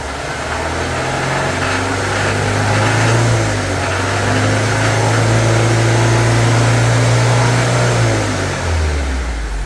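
A BMW N42B20 four-cylinder engine revs up under applied throttle, its steady mid-pitched drone rising and holding strong before easing back, loud and close with no voices.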